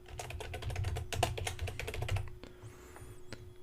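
Fast, quiet typing on a computer keyboard, a dense run of light key clicks that stops partway through, leaving a few isolated taps and a faint mouse click.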